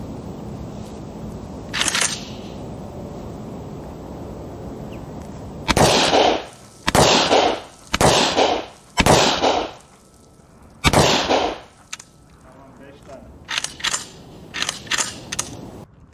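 A Dağlıoğlu FD20 Kalashnikov-style blank-firing shotgun fired outdoors: one early shot, then a rapid burst of loud, sharp reports about a second apart, and a few lighter cracks toward the end.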